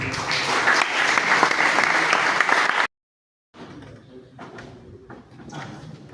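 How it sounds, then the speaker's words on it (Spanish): Loud crowd applause at a university history congress fills the first few seconds, then cuts to silence before fainter, scattered clapping and room noise return. "Para usted un aplauso."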